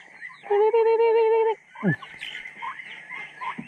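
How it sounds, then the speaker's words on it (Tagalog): Turkeys at a farm are fed, with a loud sustained call from one bird followed by softer clucks and gobbling chatter nearby. "Papakain muna ako ng pabo."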